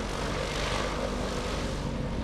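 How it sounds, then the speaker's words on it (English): Propeller airplane engine droning steadily and loudly at an airshow during a short takeoff demonstration, a constant broadband roar with no voices. "short takeoff and landing is to take off and land in the shortest distance possible"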